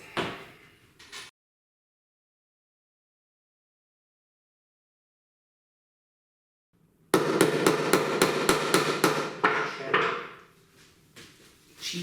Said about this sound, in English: So I will take a sledgehammer